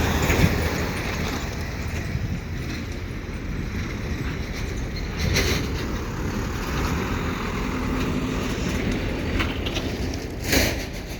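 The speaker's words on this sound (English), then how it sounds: "And there you can see the locomotives" CP freight locomotives move double-stack cars at a rail yard, a distant low rumble under steady wind and traffic noise, with a couple of brief louder swells.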